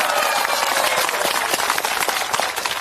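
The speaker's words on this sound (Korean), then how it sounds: "힘찬 박수 부탁드립니다." A crowd at a Democratic Party political rally in Gunsan applauds loudly: dense, steady clapping throughout that stays strong to the end, with scattered voices mixed in.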